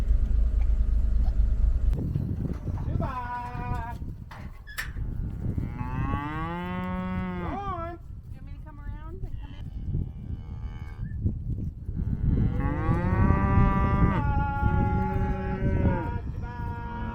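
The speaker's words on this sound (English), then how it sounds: "You see the cows?" Cattle moo repeatedly on a farm while being sorted and loaded, several long drawn-out calls rising and falling, close and loud, with low rumbling in the background.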